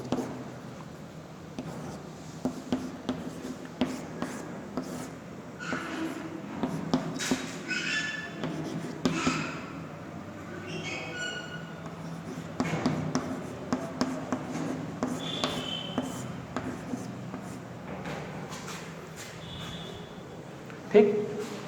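Pen writing out a fractions calculation on paper, soft intermittent scratching and tapping strokes heard faintly under a teacher's steady talking.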